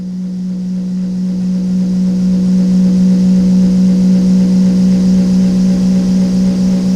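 Electric hub wheel motor on a home build, driven up to 95 volts, spinning with a steady loud hum and whine that climbs slightly in level and holds through, with no talk.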